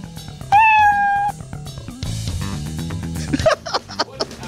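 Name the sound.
cat meow sound effect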